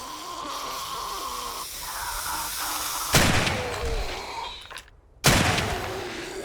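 Two shotgun slug shots fired at an armored feral zombie in the survival game 7 Days to Die, each a loud, sharp blast with a ringing tail, spaced about two seconds apart over steady background ambience.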